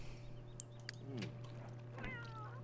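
A kitten meowing in The Sims 3, two short rising mews, faint and close over a low steady hum, with a couple of soft clicks between them.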